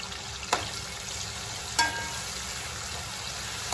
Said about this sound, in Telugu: స్టవ్ పైన బౌల్ పెట్టుకొని ఆయిల్ యాడ్ చేసి ఆయిల్ హీట్ అయిన తర్వాత కొన్ని ఆనియన్స్ యాడ్ చేసుకోవాలి.